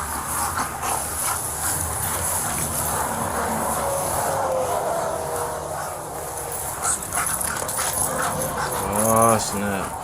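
A police dog scrabbles and moves about on top of a car during a roadside vehicle search, with whimpers and barking mixed under steady talk from several people nearby.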